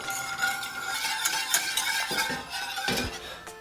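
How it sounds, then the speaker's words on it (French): Milk with melting Carambar caramel candies is stirred continuously in a pot, a close run of spoon scraping and swishing with a few metallic clinks against the pot toward the end, no voices. "Alors là, on remue constamment."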